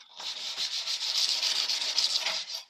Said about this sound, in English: So now I will continue with a bit of sanding paper